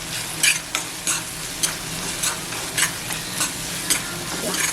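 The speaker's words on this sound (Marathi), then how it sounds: "आता हळद पावडर टाकते थोडासा गरम मसाला आहे तो टाकते घडशी बंद मसाला टाकते मसाले मस्त असे परतून घ्यायचे" Turmeric powder and garam masala frying in a pan for prawn keema, with a loud continuous sizzle and repeated scraping strokes of a spoon stirring at a steady, roughly half-second rhythm.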